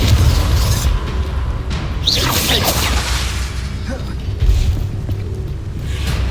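Confringo blasting spell exploding during a Hogwarts Legacy battle: deep booming blasts and swooshing magical whooshes in a dense, loud wash of combat effects that runs throughout.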